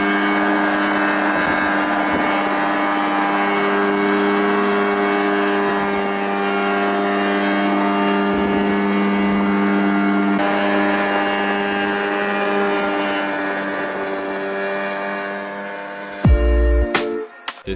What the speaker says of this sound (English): This guy built an ultralight helicopter that he could fly himself.